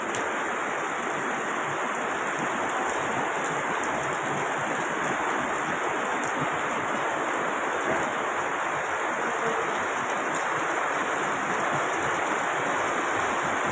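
Steady rain falls in Silang, a dense continuous hiss with no pauses, holding the same level throughout.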